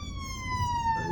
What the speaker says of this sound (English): we've got an ambulance or something coming